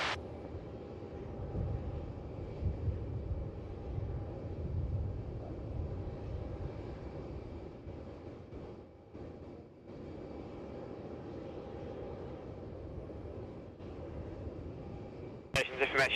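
A jet aircraft rolls for takeoff on runway 27 at Melbourne Airport, a steady distant engine roar heard faintly and continuously beneath a radio voice.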